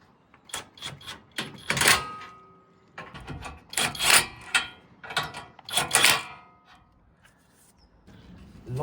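Ratchet clicking as bolts are nipped up while fitting bull bars to a Ford Ranger, several bursts of rapid close metallic ratcheting separated by brief pauses.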